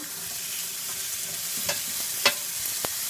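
Peppers and onions for fajitas frying on a hot grill give a steady, broad sizzle, with a few sharper crackles and pops rising out of the continuous hiss.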